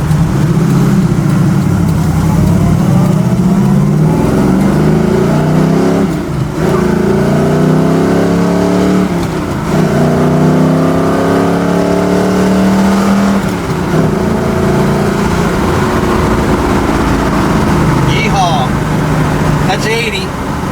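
A 1967 Chevrolet Camaro SS with a powerful motor and a freshly rebuilt transmission pulls hard on the road, the engine note climbing through repeated rising sweeps as it shifts up, loud and close from inside the car with someone talking over it.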